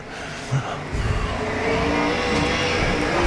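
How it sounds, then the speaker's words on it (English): A USAC/CRA sprint car runs a time-trial lap at Arizona Speedway, its engine roaring steadily and building in loudness as it approaches, heard amid track ambience. "So here comes the American Flowtech Race Shack Mike Martin Racing Kachina Auto number 98 out of Phoenix, Arizona"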